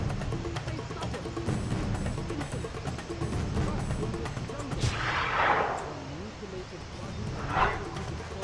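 Shotgun fire in the James Bond 007: Bloodstone video game: two loud, separated blasts under game ambience and rumble, with someone talking over the action.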